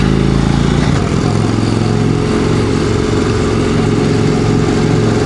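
A 2016 Indian Chieftain motorcycle with the 111 engine rumbles steadily while riding, a loud, continuous low throb under engine braking with wind rush and no talk.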